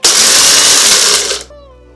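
A mixer grinder grinds whole spices, star anise and black pepper, for tomato ketchup, a loud, steady high whir for about a second and a half before cutting off abruptly.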